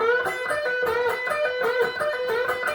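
A clean electric guitar lick played alone, quick picked notes with bends and pull-offs repeating in a steady pattern at moderate volume.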